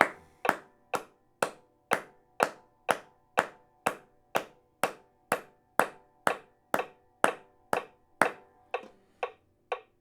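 Steady hand claps keep a brisk, even beat along to a metronome, around two per second, loud and close, with crisp ticking clicks landing on each clap.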